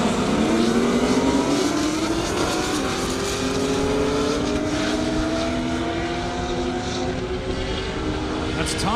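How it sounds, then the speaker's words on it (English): Fast drag race cars topping 200 mph roar down an airport runway, a loud sustained engine howl with rising pitch sweeps as they accelerate past, continuous and close throughout. "We're seeing a lot of fast over 200 mile an hour cars."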